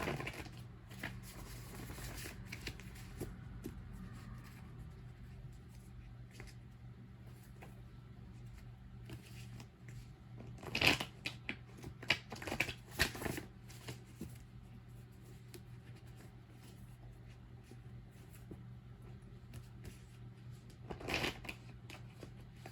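Advice cards shuffled for a card reading, quiet riffling and rustling with a few louder flurries of shuffling, close and alone without talking.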